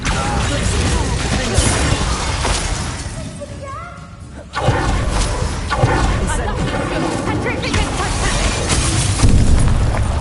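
Bombarda spell blasts in Hogwarts Legacy, loud crashing explosions with shattering debris and whooshes, one big burst after a brief lull, dense and close, with a voice talking over the din.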